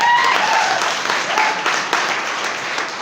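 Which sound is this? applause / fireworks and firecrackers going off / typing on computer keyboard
applause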